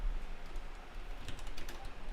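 Code is typed on a computer keyboard in a quick, soft run of key clicks, close by and fairly quiet, with denser bursts toward the end.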